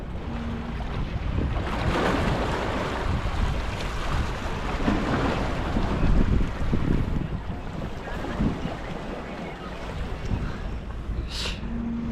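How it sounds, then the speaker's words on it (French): Sea water lapping at a jetty on the island of Krk, a steady broadband wash of waves mixed with heavy wind buffeting the microphone, continuous and fairly loud with no talking. "j'ai admiré la mer, le bruit de l'eau."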